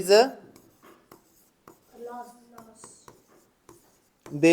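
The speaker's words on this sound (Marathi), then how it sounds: "आणि मग आपण लिहितो लॉसचा फॉर्म्युला" A pen scratches out a profit-and-loss formula on paper in short, close strokes, with a voice talking briefly at the start and end.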